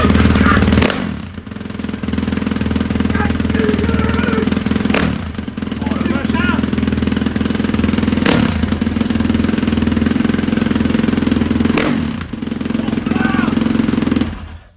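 A motocross dirt bike engine, model year 2010 or 2011, cold at the start, runs loud and close with a steady low-pitched rumble and several sharp throttle blips breaking the drone, then cuts off at the end.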